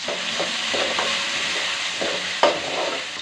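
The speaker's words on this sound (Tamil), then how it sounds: "அப்புறம் நறுக்கின வெங்காயத்தை அதில் கொஞ்சோண்டு போட்டுக்கோங்க" Chopped onions sizzle steadily in hot oil, with a few soft stirring scrapes and one sharper clink partway through.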